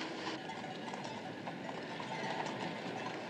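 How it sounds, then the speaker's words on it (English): Hooves from a horse pulling a wagon clip-clop steadily along a pedestrian way, mixed into a busy wash of outdoor noise. "Look, there's a horse and wagon on the pedestrian way."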